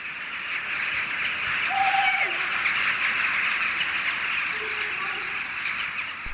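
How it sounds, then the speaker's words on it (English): A flock of birds flies overhead calling, scattered squawks and chirps over a steady hiss, moderately distant and fairly faint. "Flying birds, excellent birds."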